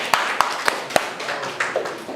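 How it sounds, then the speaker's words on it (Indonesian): Classroom students clapping after a group presentation, a handful of sharp separate claps spaced out unevenly over a couple of seconds against soft room murmur. "Oke, tepuk tangan dong."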